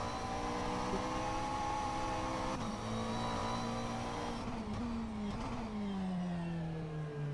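Race car engine in a racing simulator game, revving loud and steady with rising and falling pitch as the car is pushed through gear changes and corners, with no voices over it.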